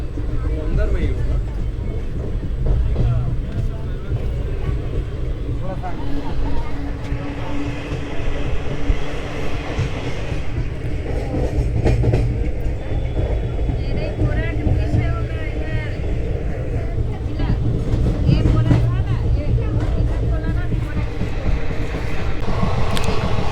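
A sleeper class train runs steadily toward Patna Junction in Bihar, with continuous rumble and rattle of the rail car throughout and people talking now and then over the noise.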